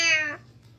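A voice imitates a cat's meow, one short high, bright mew that trails off quickly.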